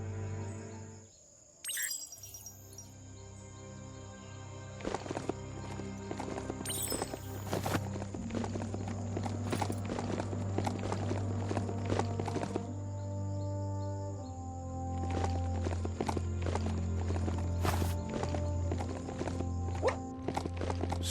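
Large hoofed creature walking in the Biomutant video game, with steady clip-clop hoofbeats over a low droning game ambience, occasional whinny-like calls and faint bird chirps.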